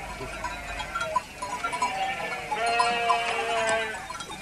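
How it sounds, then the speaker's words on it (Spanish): A flock of sheep bleats repeatedly on a mountain road where herds block the way, many overlapping calls near and far over a steady outdoor din. "El camino con frecuencia quedaba bloqueado por rebaños de ovejas."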